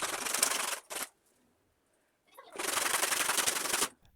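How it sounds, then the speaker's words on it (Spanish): End caps of a homemade clamp are sanded by hand in two close, raspy bursts of scraping separated by a short silence. "y lijamos dándole un buen acabado a las tapas"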